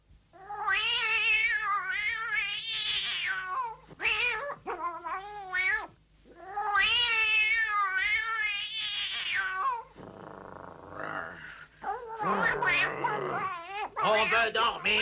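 A cat in the animated series Gédéon meows and caterwauls in long, loud, wavering drawn-out cries repeated close up, broken by short pauses and a rougher yowl near the end.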